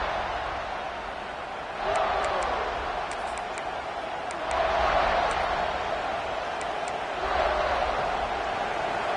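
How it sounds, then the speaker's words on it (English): A stadium crowd roars in College Football 26 during a Florida vs Miami game, a broad steady swell that surges and fades in waves with faint ticking clicks. "The roar of the crowd trying to fuel this defense to keep them pinned in their own end."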